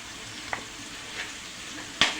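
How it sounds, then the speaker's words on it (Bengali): Broiler chicken pieces fry in spice paste, making a soft, steady sizzle with a few sharp scrapes and clicks of stirring spaced across the moment; nobody speaks. "এখন আমি দিয়ে দিব মাংস দিয়ে আরও প্রায় 4-5 মিনিটের মতো আমি কষে নেব।"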